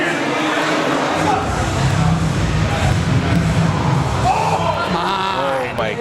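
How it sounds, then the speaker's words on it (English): Crowd noise at a USA Powerlifting meet, picked up by a raised crowd microphone: a steady, loud wash of murmuring spectators with scattered shouts and a rising voice near the end, no distinct applause. "I'm unironically turning the crowd mic up for you guys a little bit"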